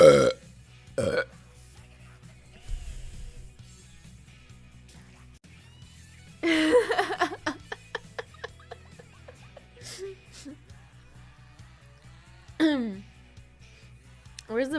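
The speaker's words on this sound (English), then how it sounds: "My burp techniques are getting better and better every day" Several loud burps from a woman, spread across the span with long pauses between, a couple of them long and drawn out, with faint murmuring and light laughter in the gaps.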